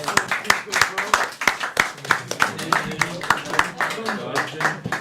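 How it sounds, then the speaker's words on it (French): A French comedy show's studio audience claps in a loose, uneven rhythm, sharp distinct hand claps close by rather than a dense wash, with some murmuring underneath. "Vous pouvez les applaudir."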